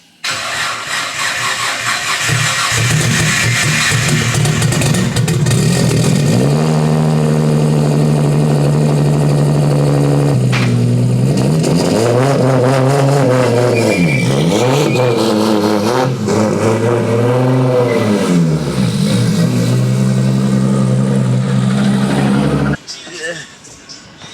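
A car engine cranks and catches, settles into a loud idle, then revs up and down several times before cutting off abruptly.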